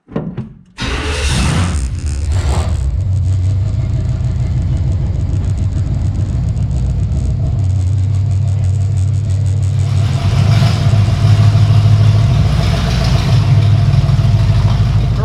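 An old custom Chevy C10 Suburban, revived after 15-20 years, starts with a bang and runs with a loud, deep, rumbling V8 idle that swells as it pulls away under its own power.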